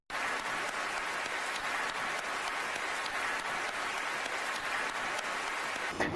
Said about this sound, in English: But one of the others was Nicole Kidman clapping.